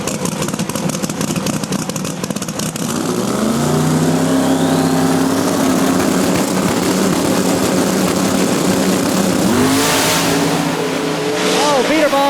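Small-tire drag race cars launch down the strip at Beech Bend Raceway, engines roaring loudly and continuously over about twelve seconds, with a pitch that sweeps as they accelerate away and a fresh burst near the end.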